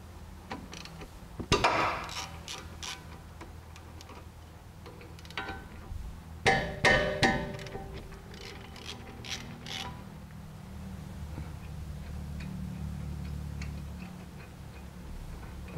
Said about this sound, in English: first we're going to remove the caliper bolts. These are going to be 12 millimeter on this vehicle